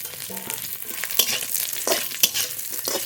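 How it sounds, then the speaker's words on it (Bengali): Pre-fried puti river fish added to hot oil with bay leaf and cumin, a dense close sizzle broken by sharp crackling bursts and a few utensil clinks. "ভেজে রাখা পুঁটি মাছ দিয়ে দেবো তেলের পরে"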